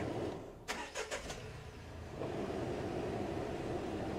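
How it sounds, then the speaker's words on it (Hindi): Car engine cranking and starting: a few quick starter bursts, then a low, steady idle rumble settles in, fairly quiet and close. "अब मुझे करना है इंजन स्टार्ट"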